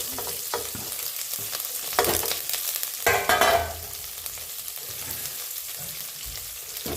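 Garlic, curry leaves and green chilies drop into hot oil and sizzle, with a loud crackling burst around the two and three second marks that settles into a steady fry along with a few stirring scrapes.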